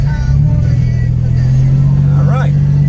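A 1972 Ford Capri V6 pulls hard under acceleration, a loud steady engine drone from inside the car, with a brief voice exclamation over it.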